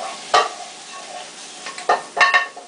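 Butter melting in a hot skillet and being stirred around, a soft sizzle broken by a few sharp scraping strokes of the utensil against the pan, close and alone.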